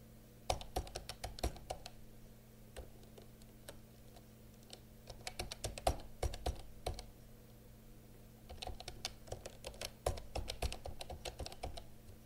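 Fingers tap out a full name on a computer keyboard while signing up for an account, quiet clicking keystrokes coming in quick bursts with short pauses, close and faint over a low steady hum.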